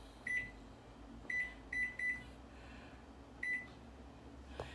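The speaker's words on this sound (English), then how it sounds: "Put the oven on 30 minutes." Oven controls being set in a home kitchen, six short electronic beeps in irregular presses over a low hum, faint and close, without speech.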